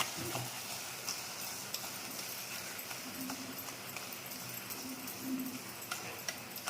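Brinjal and dried prawn curry being stirred and mixed in a pan, with steady sizzling and frying under repeated soft clicking and scraping taps of a spoon against the pan, close and continuous.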